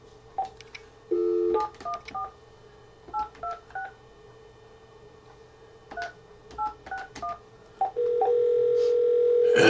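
A phone call to a McDonald's: a steady dial tone runs under a quick series of DTMF keypad beeps in bursts, then a long louder ringback-like tone at the end; no talking.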